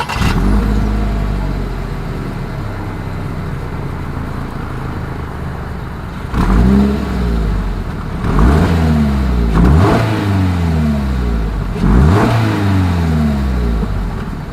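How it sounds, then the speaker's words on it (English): A 2022 Toyota GR86 exhaust idles with a deep rumble, then revs sharply three times in a row, each rev climbing and falling back, loud and close. "As always, here is that exhaust clip."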